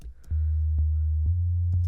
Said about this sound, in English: So let's go into basic sine.